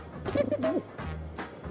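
A fancy pigeon coos close by, a few soft throaty warbles in a short run, then a quieter second phrase.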